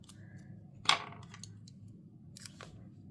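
One sharp, close snip of scissors cutting washi tape at a craft desk, with faint rustling and small clicks before and after it in a quiet room.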